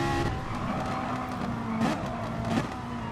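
A mid-rear-engined Ferrari race car roars continuously around Bathurst in an online racing game championship, its loud, steady engine drone shifting slightly in pitch throughout.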